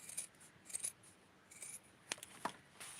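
Scissors snipping through fabric while trimming a small doll bathing suit for a German Skipper doll, a few quiet, close cuts in short bursts with pauses between.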